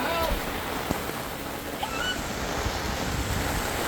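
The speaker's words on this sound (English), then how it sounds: "we're getting very badly rained on" Heavy rain and strong wind during a thunderstorm in Utah, a broad steady roar with gusts buffeting the microphone close by, a few sharp knocks and a person's voice faintly in the background.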